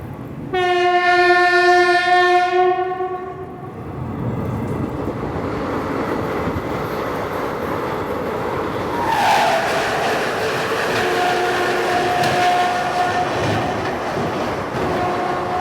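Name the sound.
17420 Vasco da Gama Tirupati Express train departing Guntakal Junction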